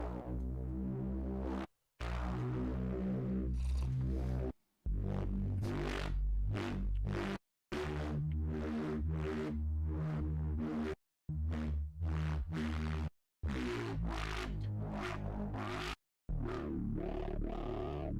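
Thick synth bass patch built in Phase Plant, playing in loud rhythmic phrases broken by short silent gaps, with a throbbing, harmonically rich low end and a bright buzzy top.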